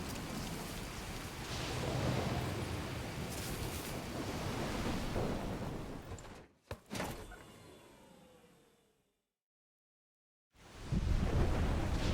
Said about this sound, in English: Another storm.